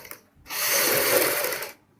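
A sewing machine runs for a steady stretch of about a second, stitching a kurti collar together with buckram, with a brief soft tap just before it starts and no talking.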